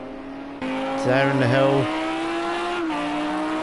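A Lamborghini V10 GT3 race car engine, a loud, steady harmonic drone that sweeps up through the gears and settles at a high pitch, heard under a commentator's voice.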